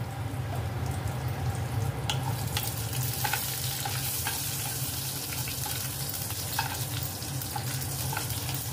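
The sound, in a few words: frying nigella seeds and green chillies in hot oil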